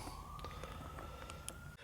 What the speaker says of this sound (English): I had to let that ambulance go by.